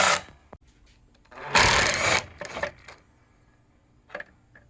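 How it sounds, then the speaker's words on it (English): An impact driver with a 5/16 bit zips out the three mounting bolts of a LiftMaster garage door opener in a garage: a couple of sharp, loud whirring bursts with short rattling pauses between them, close by and with no talk. "5/16 bit on a impact driver to pull out the 3 bolts that are holding this in"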